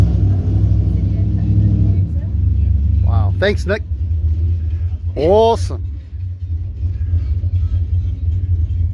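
A steady, low engine rumble plays from a novelty birthday cake shaped like a 1960 Buick, running continuously beneath cheerful nearby voices.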